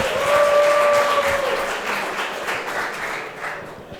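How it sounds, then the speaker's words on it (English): Audience applause for three shy panel guests at a programmer productivity fishbowl discussion, loud and sustained at first and then tapering off to a lighter patter. "Give them an applause."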